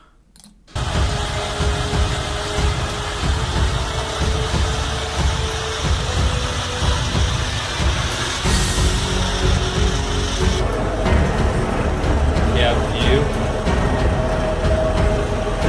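A tractor-mounted snow blower clears snow with a loud, continuous mechanical roar and churning engine drone, close by and steady, with a brief shift in tone partway through and no voices.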